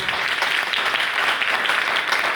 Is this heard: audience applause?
yes